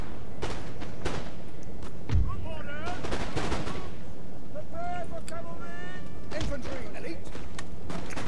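Musket volleys crack out in a Napoleon Total War multiplayer battle as scattered sharp shots and thumps, under a man's ongoing speech.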